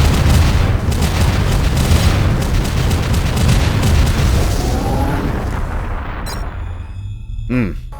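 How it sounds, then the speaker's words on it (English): In the Turok 3 video game, a PSG weapon is fired and fills the space with a loud, sustained rumbling boom as enemies are sucked in and destroyed, then fading, with sharp synthetic tones at the end. "if we just fire the PSG right out there, every single enemy in this room should be sucked into it and destroyed"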